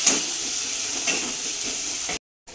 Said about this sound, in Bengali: মশলা কিন্তু খুব ভালো করে ভাজা হয়ে গেল